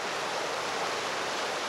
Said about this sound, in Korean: 멀리서 물 흐르는 소리가 기분 좋게 들렸습니다.